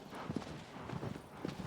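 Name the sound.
horse hooves clip-clopping in video game Shadow of the Colossus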